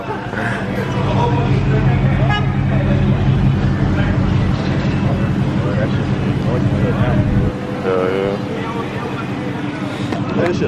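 A 2018 Dodge Charger fitted with Super 10 mufflers and a resonator delete rumbles in a steady, loud, deep exhaust drone. Voices talk over it, and the drone drops slightly near the end.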